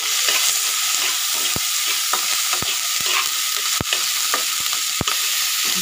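Half a spoon of ginger frying and sizzling in hot, previously used oil for Bengali arhar dal chorchori, a steady hiss with several sharp spoon clicks as it is stirred.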